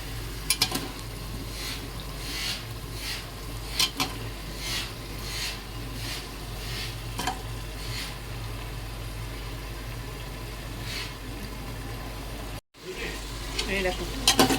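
Chicken pieces with spiced potatoes frying in a pan, giving a continuous loud sizzle with periodic stirring scrapes, and a brief dropout near the end.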